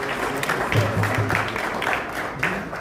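Audience applause at a grand finale event in Ghana, with scattered clapping, mixed with crowd noise and murmuring voices.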